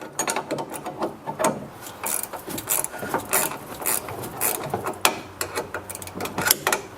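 Sway bar link nut being loosened on a Chrysler 300 by a ratchet wrench, close up, giving a run of uneven clicking and scraping strokes with short pauses between turns, no talking.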